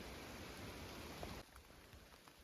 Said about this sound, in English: Well, it's raining again, obviously.